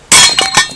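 A sledgehammer strikes a piece of hardwood, giving one sharp, loud crack at once followed by splintering clatter and a few quick secondary knocks as the pieces fall.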